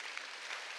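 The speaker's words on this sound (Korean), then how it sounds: "박수 좀 쳐줘요." Church congregation applauding during a Korean Sunday worship service, a steady wash of clapping held at an even level through the whole brief moment, with no voices standing out.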